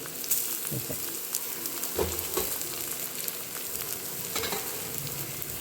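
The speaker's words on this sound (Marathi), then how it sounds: "अशा अगोदर ह्या सगळ्या भाज्या भाजून घेते बीट टाकले हे केल गाजर टाकले" Beetroot and carrot fry in a pan for a vermicelli upma: a soft, continuous sizzle broken by light clicks and scrapes of stirring.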